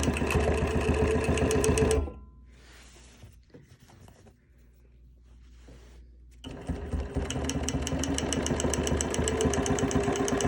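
A Bernina sewing machine runs fast and loud while stitching over a cord on a quilt, cutting off for a few seconds of quieter rustling and handling before the steady, rapid needle rhythm resumes at full volume.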